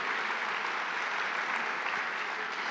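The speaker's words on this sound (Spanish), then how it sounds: "Denle un aplauso a estos actores, estuvieron tremendos el día de hoy." A church audience breaks into dense, even applause for the actors who just performed, steady throughout with no voices standing out.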